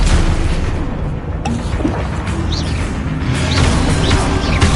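Spell-casting combat in the Hogwarts Legacy video game, with a Confringo fire spell bursting amid continuous booming blasts, magical whooshes and a dense, loud game soundscape throughout.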